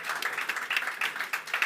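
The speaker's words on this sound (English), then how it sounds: "Feel free to clap, folks." Scattered applause from an audience at a talk on enterprise and government blockchain adoption, a brief patter of clapping that rises and falls in small bursts, fairly even and moderate in level with no voices over it.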